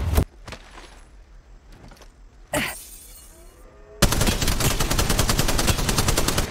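Rapid automatic gunfire in Apex Legends Mobile, with a few single shots and a brief burst early on before a loud, sustained stream of fire that runs without pause to the end, close and dominant.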